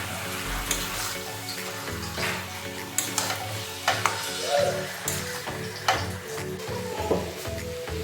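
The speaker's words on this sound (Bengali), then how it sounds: "এবার এর মধ্যে দিয়ে দেবো এই ম্যারিনেটেড চিকেনটাকে দিয়ে এটাকে ভালো করে এখন কষাবো" Marinated chicken fries in an onion, ginger, garlic and tomato masala, with a steady close sizzle and repeated scrapes and taps of a spoon against the pan as it is stirred.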